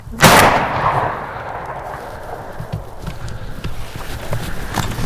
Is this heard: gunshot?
yes